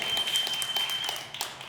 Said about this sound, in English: they give a big round of applause to the Lord